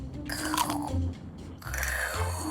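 Someone chews a mouthful of undercooked, crunchy rice pilaf in two crisp, crackling bursts separated by a brief pause, close and fairly quiet, with no speech.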